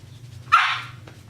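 One short, sharp dog bark rings out close by against a quiet low hum, then fades.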